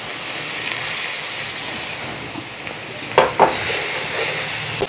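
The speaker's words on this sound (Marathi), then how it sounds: "हा मसाला व्यवस्थित मिक्स करून घेऊया।" Masala being stirred into roasted gram flour in a pan for egg masala, with a continuous hissing sizzle and a couple of brief scraping stirs near the end, close and fairly loud, no talking.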